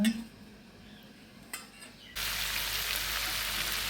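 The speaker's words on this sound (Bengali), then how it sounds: "সুন্দরভাবে এটাকে সেঁকে নিচ্ছি যাতে নিচের ময়লাগুলো পড়ে যায়" Dried shrimp nappi dry-roasting in a pan: a few soft scrapes and a clink, then a sudden steady loud hiss that holds to the end, close by with no voices.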